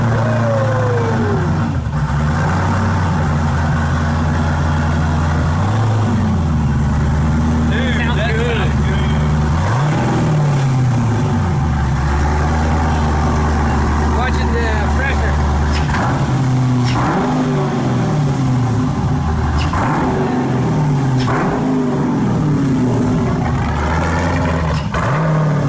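A Factory Five GTM supercar engine, running without a cam, cranks and fires, then idles and revs repeatedly, loud and close, with rising and falling engine pitch throughout.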